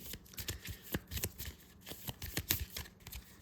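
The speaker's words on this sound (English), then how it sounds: "Give this a quick shuffle." A deck of Slay the Spire board game cards is shuffled by hand in a quick, close run of crisp riffling flutters and taps, with no voices.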